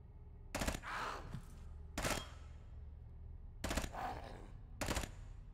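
Gunfire in the sci-fi roguelike game Quasimorphosis: Exordium comes in four separate loud bursts, spaced a second or more apart, each a short rattle of rapid shots with no talk over them.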